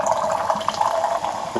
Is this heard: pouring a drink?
yes